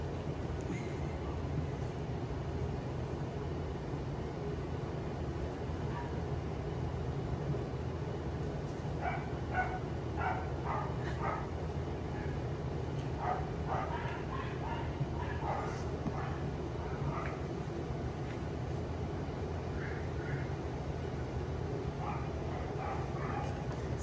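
Five-week-old puppies play together, letting out scattered high yips, whimpers and little barks in short bursts over a constant low background rumble, with a person talking at times.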